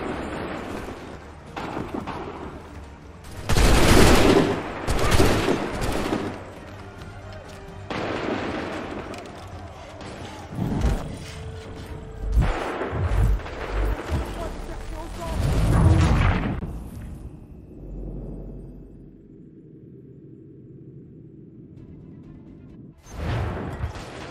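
Firing squad volleys on command, several loud booming gunshot bursts with lulls in between, mixed with shouted voices and background commotion.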